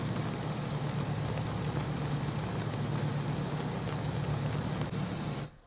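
Heavy rain pours during floods in Mumbai, a steady, dense hiss of downpour that holds evenly for several seconds before cutting off abruptly at the end.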